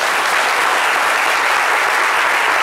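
A studio audience at a French television comedy show applauds loudly and evenly, a dense continuous wash of clapping from start to finish.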